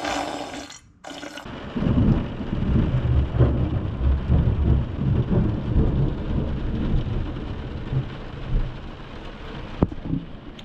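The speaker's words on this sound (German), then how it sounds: "da ist ein kleines Gewitter aufgezogen, es blitzt, es donnert" A small summer thunderstorm rolls in, with steady rain hissing and rumbling thunder close by, a sharp crack near the end, and no voices.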